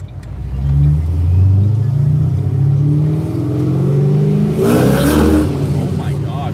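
A Ford Mustang pulls hard in first gear, its engine rising in a loud, close rumbling rev that climbs steadily before a brief shift-like break and renewed pull.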